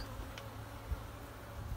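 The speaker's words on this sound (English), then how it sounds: "But a lot of bees down in this box today." A faint, dense hum of many honey bees buzzing inside a beehive box during a hive inspection, a low steady drone with a few soft knocks.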